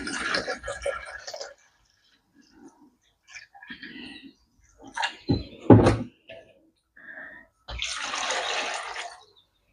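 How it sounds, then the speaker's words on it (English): Vinegar and water poured over chopped apples for homemade ketchup: a steady splashing pour at the start, quiet handling sounds in the middle, then a second rushing pour near the end. "I'm going to put the full amount of vinegar in, but not put so much water in."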